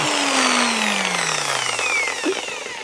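A constant-speed car polishing machine spinning at 2000 RPM pressed against the paint of a 19-year-old Volvo, a loud continuous whine whose pitch glides slowly downward under the load, without bogging down.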